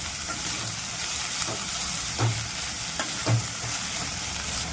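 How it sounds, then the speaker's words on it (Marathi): Chopped fenugreek leaves stir-fried in a pan give off a steady, close sizzle, with a few soft scrapes and knocks from stirring spaced through it. "मेथीची भाजी टाकल्यानंतर आपल्याला असं परतून घ्यायचं आहे व्यवस्थित"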